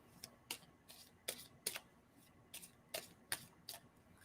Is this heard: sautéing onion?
no